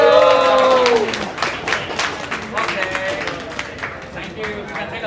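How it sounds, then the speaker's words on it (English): An esports tournament audience breaks into loud, dense applause and cheering that gradually thins, while a voice rings out over the crowd at first. "I would like you guys to give a round of applause too"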